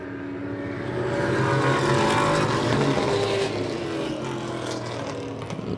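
Race cars lapping a 3/8 mile short-track speedway in the Northeast, a steady loud engine roar swelling and fading as the pack passes close by, with no talk over it.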